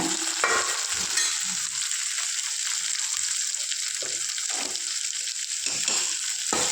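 Tomato sautéing with browned onion in a pan for a ladies-finger poriyal: a steady, close sizzle of frying with short bursts of stirring and scraping throughout, no talking.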